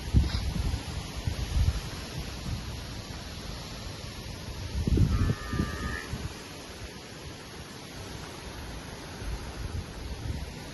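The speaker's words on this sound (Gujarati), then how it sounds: "આ ઝાડવાનો અવાજ આવે ને એટલે એવું થાય કે વરસાદ ફૂલ આવે." Wind rustling through trees on a rainy day makes a steady, broad, airy hiss throughout, with gusty low rumbles buffeting the microphone near the start and again around the middle. No one speaks.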